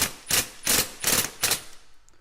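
An impact drill boring a hole for tapping runs in four or five short, loud rattling bursts with brief pauses between them as the bit is backed out and driven in again.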